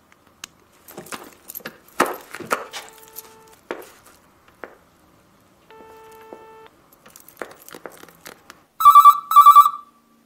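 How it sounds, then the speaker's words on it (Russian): A telephone rings twice in quick electronic trills after scattered knocks, clatter and a few brief tones. "Телефон."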